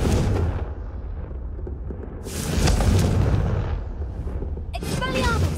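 Confringo explosive fire spell in Hogwarts Legacy, heavy booming blasts and rumbling bursts in loud game action, with a short voice-like shout near the end.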